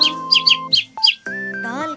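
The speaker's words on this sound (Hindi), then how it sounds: "चुन चुन करती आई चिड़िया" Bright, quick sparrow-like chirps in a Hindi children's rhyme, several short tweets in a row over sustained musical tones, loud and close.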